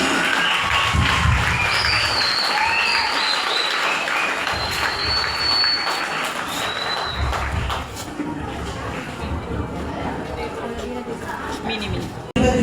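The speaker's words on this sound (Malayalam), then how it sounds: "ഒരു നല്ല കൈയടി." Audience applause at a school event for the school's former students, a steady crowd clapping that carries through most of the stretch and thins toward the end, with a voice speaking over it.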